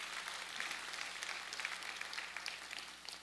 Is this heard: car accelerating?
no